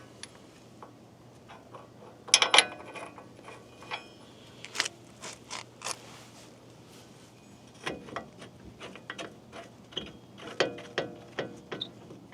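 Ratchet clicking in short bursts while tightening a bolt on a Ram 2500 truck during wheel light installation, close and moderately quiet, with pauses between strokes and some metallic handling.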